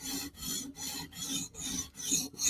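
A knife blade is drawn through a sharpener in six rhythmic rasping strokes with brief gaps between them, close and fairly loud, with no voices.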